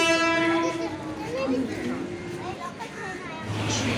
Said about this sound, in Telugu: లోకల్ ట్రైన్ అయితే వచ్చేసింది ఎక్కేసాము